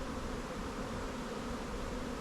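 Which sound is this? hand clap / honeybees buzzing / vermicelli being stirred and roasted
honeybees buzzing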